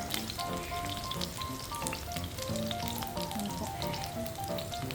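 Squid adobo sizzles in a pan just after vinegar is added, giving a dense, constant crackling hiss close up, with faint musical tones underneath and no talk.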